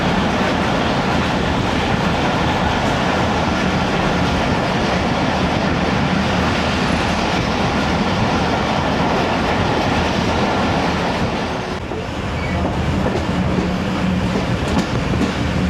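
Interior rumble of the 10DN Allama Iqbal Express running between Kot Lakhpat and Okara, steady loud roar with rhythmic clickety-clack of wheels on rail joints, continuous and close with no speech.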